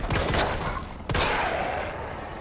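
Gunfire aimed at a dog in the Resident Evil 2 remake, Leon A route: two loud, close shot bursts about a second apart, each trailing off in a rumbling decay, with no voices.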